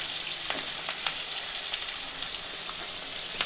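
Sliced onion frying in hot oil with cumin and green chillies, a continuous bright sizzle with a few soft scrapes of a spoon stirring, heard close and alone.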